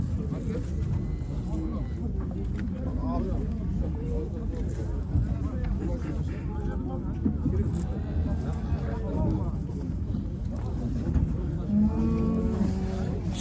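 Cattle at a Kyzylorda livestock market, a cow or calf mooing now and then amid a dense, noisy crowd, with people talking nearby and wind buffeting the microphone.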